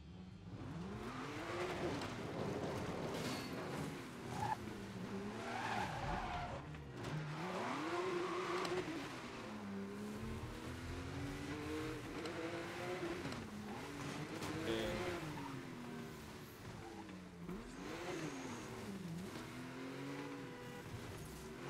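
Race cars in Need for Speed: Most Wanted rev hard and accelerate, the engine pitch rising and falling repeatedly, with occasional tire squeal, a steady fairly quiet mix throughout.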